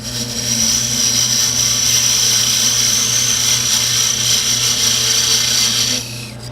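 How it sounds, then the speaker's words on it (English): Parting tool cutting turned wood on a lathe to separate a toothpick dispenser piece from its waste, a steady loud whirring scrape with a high tonal whine that runs evenly for about six seconds, then drops off abruptly as the cut finishes. "we'll use a parting tool here to separate it from the waste material"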